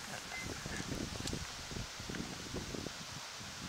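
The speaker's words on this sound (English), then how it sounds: "I'm on the riverbank, it's a bit windy" Soft, continuous wind blows on a riverbank with a faint rustle and low rumbling gusts, fairly quiet and steady throughout.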